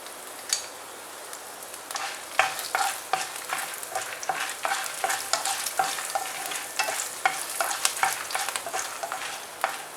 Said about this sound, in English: Now I'm going to add dried red chilies and garlic